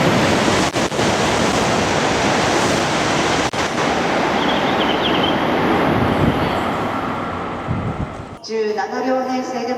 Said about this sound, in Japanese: まもなく2番線を電車が通過します。